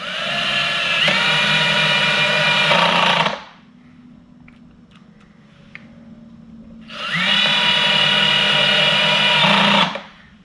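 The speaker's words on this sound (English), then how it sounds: "I'm going to go and install these 3 screws now with the smaller size that comes with it" A power drill drives screws while a Defender security lock is installed, whirring loudly and close in two long bursts separated by a quiet pause.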